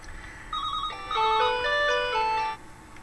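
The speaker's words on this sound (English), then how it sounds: "The phone always rings when you're doing something." A telephone rings indoors with a bright electronic melodic ringtone, a fairly loud tune of rising and falling tones that plays for about a second and a half before stopping, with quiet room tone on either side.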